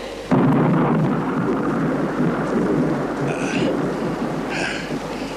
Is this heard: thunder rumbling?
yes